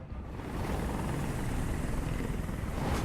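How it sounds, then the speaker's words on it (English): Helicopter from the video game Detroit: Become Human, a loud, dense rotor and engine roar that swells in after a moment and holds steady and close, with no voices. "Helicopter just fucks shit up."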